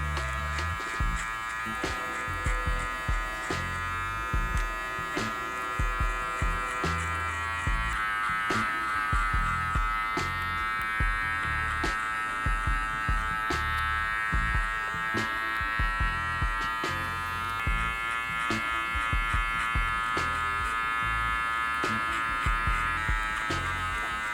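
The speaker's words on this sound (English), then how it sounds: "I'm guiding the clipper outwards, trying to follow the direction of his head." An electric hair clipper hums steadily and close, moving over a man's head on the parietal ridge during a burst fade haircut. It is mixed with continuous music and no talk.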